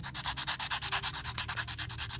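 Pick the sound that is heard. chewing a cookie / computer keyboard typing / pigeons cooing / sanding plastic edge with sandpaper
sanding plastic edge with sandpaper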